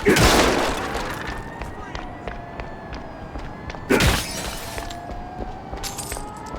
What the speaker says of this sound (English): Shattering windows.